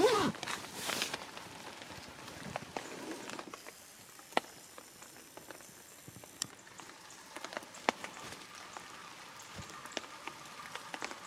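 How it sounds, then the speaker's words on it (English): Rain falls at night outside a campsite with beds set up for sleeping. A soft, steady patter comes with scattered sharper drips landing close by on a surface. No one speaks. "it was raining when we went to bed last night"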